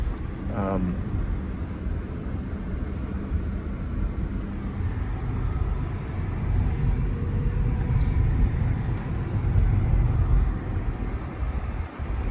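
Inside a Waymo Jaguar I-Pace electric car on the move, a low steady rumble of road and wind noise fills the cabin, swelling slightly midway, with a person talking quietly over it.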